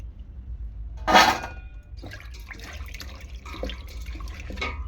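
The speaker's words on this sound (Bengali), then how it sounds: "তো আমি একটা পাত্রের মধ্যে এগুলো ধুয়ে ভালো করে তুলে নেব।" Four fish heads are washed by hand in a bowl of water: a sharp clink against the bowl, then a run of close splashes, drips and sloshing.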